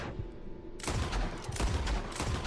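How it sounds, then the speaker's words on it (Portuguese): Rapid gunfire in Red Dead Redemption 2 with Dead Eye active, a sudden burst of loud close shots rattling in quick succession after a brief quiet lead-in. "Você pode ficar atirando ali infinitamente usando os Olhos da Morte"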